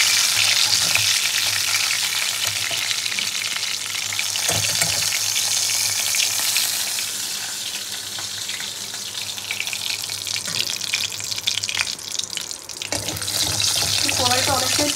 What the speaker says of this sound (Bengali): একটা একটা করে মাছগুলো ভেজে নিলাম